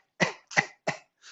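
Three sharp, close coughs in quick succession, forced out on a single breath during a healing breathing exercise, followed by a softer, fainter fourth.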